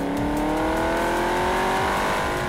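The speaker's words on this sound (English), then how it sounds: "The HSV's bimodal exhaust valves give it a much louder voice." An HSV car with bimodal exhaust valves accelerates hard, its loud, throaty exhaust note climbing steadily in pitch with a dense, continuous roar up close and no talk.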